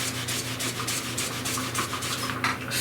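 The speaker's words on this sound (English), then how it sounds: "You can really dig that magic eraser in there." A magic eraser scrubs back and forth across the plastic of a Compaq Portable keyboard, a close, steady rhythmic rubbing with a slightly gritty abrasive texture and no talking.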